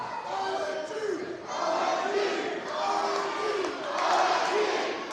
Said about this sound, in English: Matthew Berry showboating for the crowd having absolutely none of it